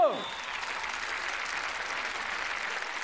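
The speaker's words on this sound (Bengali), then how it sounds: "এবার জোরে হাততালি হয়ে যাবে ওদের জন্য" An audience claps loudly and steadily for singers after a performance, a dense continuous burst of applause that holds evenly for the whole stretch.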